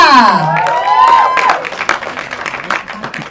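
Audience applause with cheering and shouts welcoming a cast member onstage at a launch event for the Indonesian film Sukma; a loud, dense burst with an announcer's voice sliding over the start, thinning out toward the end.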